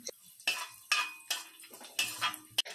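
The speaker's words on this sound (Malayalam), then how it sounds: "ഒരു ടേബിൾ സ്പൂൺ കശുവണ്ടി ഇട്ട് കശുവണ്ടി അത്യാവശ്യം മൂത്ത് ചുവന്ന് വരുന്നത് വരെ തുടരെ ഒന്ന് ഇളക്കി കൊടുക്കാം" Cashews and raisins roast in ghee in a pan while a spoon stirs them, clinking and scraping against the metal in about six distinct strokes, close and fairly quiet.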